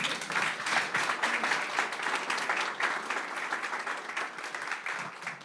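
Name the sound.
congregation applauding in church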